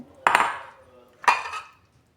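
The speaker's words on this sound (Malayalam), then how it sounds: "കടലിടുന്നു" Chickpeas drop into a metal pressure cooker in two separate rattling pours about a second apart, each a bright clattering burst that fades, close by and with no talk.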